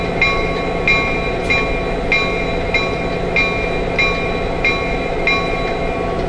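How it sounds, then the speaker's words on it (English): Repeated bell strikes from a Lionel Virginian SD70ACe model locomotive, ringing continuously at a steady rhythm, roughly every 0.6 seconds, clear and close over a constant low electronic hum. "That of course was the continuous ringing bell."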